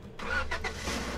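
A car engine starts up in the Roblox game Lumber Tycoon 2, a short, steady synthetic motor rumble that holds at a constant level after a brief quiet lead-in, with no talking over it.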